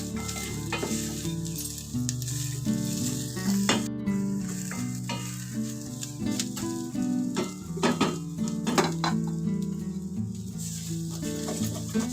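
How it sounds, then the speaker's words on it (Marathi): Green masala sautés in oil in a pan for a traditional chicken dish, with a steady sizzle and stirring under louder background music, plus occasional clicks of a spoon against the pan. "छान असं तेल सुटूपर्यंत मसाला छान असा खालीवरती परतून घ्यायचा"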